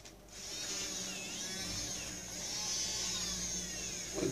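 Fan motor fitted with a cutter milling into an apple, producing a continuous high whine over a low rumble, with shifting grinding tones as the fruit is cut.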